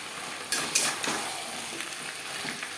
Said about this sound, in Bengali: আলুর সাথে সবজি বেশ ভালো করে মিক্স করে দেবো